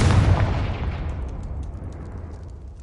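A Confringo blasting spell explodes in Hogwarts Legacy, a loud deep boom that hits at once and then rumbles away over about three seconds, with no voices.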